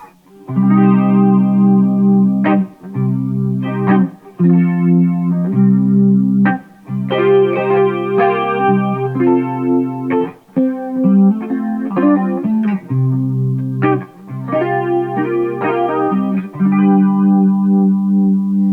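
An electric guitar played through a modulation effects pedal, chords and short riffs with a swirling, phased and chorused tone, loud and sustained with brief gaps between phrases.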